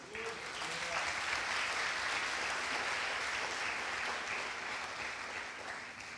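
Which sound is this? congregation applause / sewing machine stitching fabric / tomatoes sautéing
congregation applause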